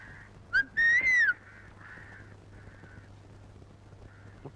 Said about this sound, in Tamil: முட்டைக்கார பொண்ணு என்ன பார்த்தா விசில் அடிக்குது.